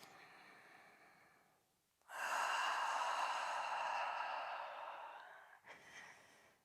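Slow, deep breaths during a relaxing full-body stretch, close and soft: one long exhale fading out, then a fuller inhale-exhale and a short breath at the end.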